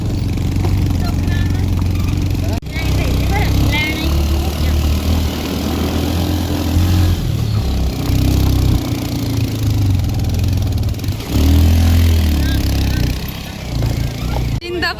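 A motorcycle ridden along a rough, dangerous mountain road, its mid-pitched engine droning steadily and loudly throughout with bumps and shifts in tone, while people talk over it.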